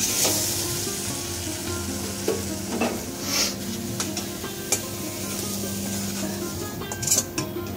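Khichuri made from parboiled rice sizzles and fries steadily as a cooked-down spice paste is stirred in, with scraping stir strokes and a few light clinks of a utensil against the pot, close and without talk.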